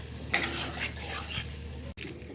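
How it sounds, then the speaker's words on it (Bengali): A spoon stirring fried potatoes in a pot for chicken curry: soft scraping and light clinks over a faint sizzle, close and fairly quiet, with one sharp clunk near the start. "আর একটু নেড়ে নেব।"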